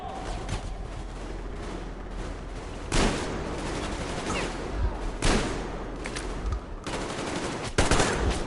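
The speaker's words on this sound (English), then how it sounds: "Covering fire for the Colonel! No saving ammo!" Machine gun covering fire in the game Metro Exodus rattles in steady bursts, with several louder cracks and blasts punching through the constant stream of fire.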